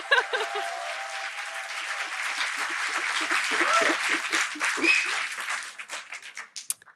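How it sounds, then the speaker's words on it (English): Steady applause from an audience at a poetry gala, sustained clapping that swells slightly and then thins into scattered claps near the end. "I feel like we need like an extra round of applause at the end of all of these"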